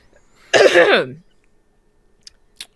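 A single rough, throaty cough close to the microphone, followed by quiet with a couple of small clicks.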